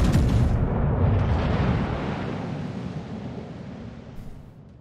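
Incoming shell fire striking the player's ship in a naval combat game, a heavy rumbling explosion at the start that rolls on and fades slowly into a long decaying roar.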